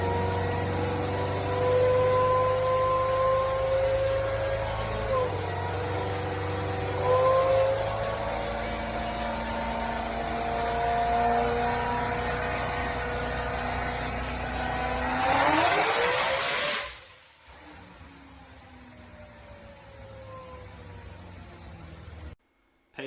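Car floored on a chassis dyno, the engine revving loud and close with rising tones as it pulls hard, then cutting off abruptly near the end.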